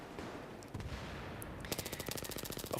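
Rapid automatic fire from a suppressed gun with a laser sight in Battlefield 3 gameplay. A few scattered shots give way to a fast, dense stream of clattering rounds in the last second, close and loud over a steady background rumble.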